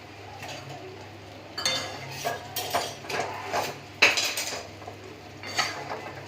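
Chopped leftover dosa pieces being stirred with onions in a metal pan, the spoon scraping and clinking against the pan in repeated bursts, close and fairly loud.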